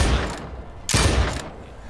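Two loud, close gunshots from the zombie game Dead Island 2, the pair spaced nearly a second apart, each a sharp blast with a short decaying tail and no speech over them.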